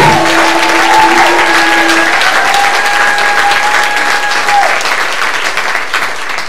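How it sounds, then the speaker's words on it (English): A church congregation claps hands and shouts together, loud sustained applause with whoops and tonal vocal cries rising over the clapping, slowly easing off toward the end. "Somebody clap your hands and shout like you want an experience."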